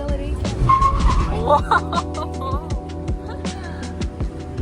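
An automatic car driven on the roads of Rhodes, its engine revving continuously under steady throttle. Rising and falling engine tones come with brief squealing notes, close and fairly loud throughout.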